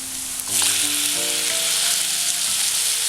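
Tomato dropped into onions frying in a pan for chicken roast, a loud, close, steady sizzle that jumps in volume right after a brief soft clatter, with faint stirring scrapes.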